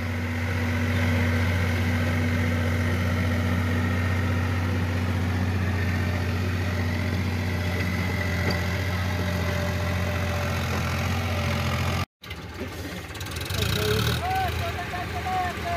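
A tractor engine idles steadily in a muddy field where it is stuck, a continuous low, loud rumble with a brief cut near the end, and people talk over it.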